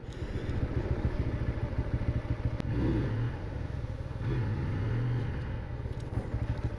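Bajaj Pulsar N125 motorcycle idles with a steady low thrum close by while being moved out, rising briefly in revs a couple of times, with no talk over it.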